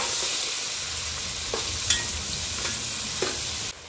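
Mushrooms, sliced hot green chilies and turmeric powder are stirred in a frying pan, a steady close sizzle with a few soft scrapes of the utensil against the pan.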